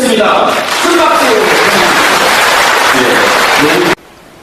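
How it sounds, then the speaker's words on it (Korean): Loud, dense applause fills a hall as an audience welcomes a speaker to the stage, a steady wash of many clapping hands with some cheering voices mixed in, cutting off abruptly near the end. "큰 박수"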